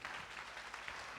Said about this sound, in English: Brother Eric, a nice round of applause.